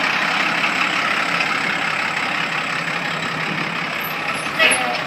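A 1992 Ford F700F box truck engine runs steadily as the truck pulls forward, giving a close, continuous broadband rumble with a brief louder surge near the end.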